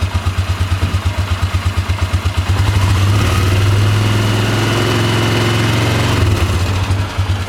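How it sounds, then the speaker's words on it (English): A 2003 Polaris Ranger 6x6 utility vehicle engine idles with a steady low pulse, then revs up and holds a higher droning pitch for a few seconds before settling back to idle. "It's got to be revved up to actually charge."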